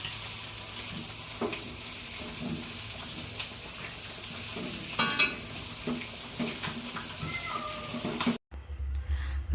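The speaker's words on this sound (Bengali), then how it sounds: "তারপরে আমি মাছগুলো ভেজে নিচ্ছি।" Fish fry in a pan with a loud, continuous close sizzle of oil, punctuated by scraping and stirring clatters, before the sound cuts out abruptly near the end.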